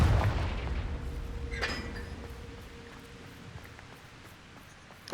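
A Confringo blasting spell goes off in Hogwarts Legacy: a heavy booming blast opens, a sharp cracking burst follows a moment later, and the sound then fades into a quiet, ringing tail.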